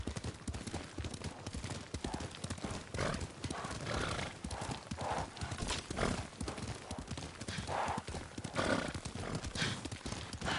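Rapid galloping hoofbeats drum steadily while a horse whinnies now and then in the video game Ghost of Tsushima, all mixed with a dense, loud backdrop of ambient noise.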